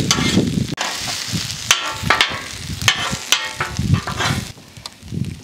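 Food sizzles and is stirred on a Blackstone griddle cooking outdoors on a homestead, with onion and fish frying in oil; a steady loud crackle broken by repeated sharp scraping strokes of a spatula, with no talk.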